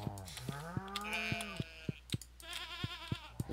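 Sheep bleating in the farming game Stardew Valley, several wavering calls overlapping one another over a steady run of short clicks and ticks, fairly close and clear.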